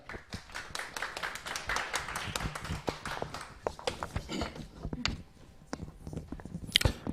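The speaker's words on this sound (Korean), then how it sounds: "큰 박수로 모시겠습니다" A room full of people at an exam information seminar applauding, dense steady clapping at moderate volume that thins toward the end with a few scattered claps.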